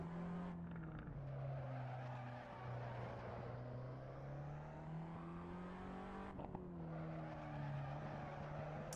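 A small, fun race car driven hard on a track during the final lap, its engine droning with shifting pitch, with some tire noise and a brief break where the revs dip and climb again, heard from inside the car.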